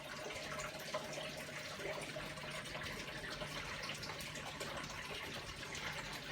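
A Hotpoint WMA32 washing machine pumps out its water with a steady, faint gushing rush of draining water and no break.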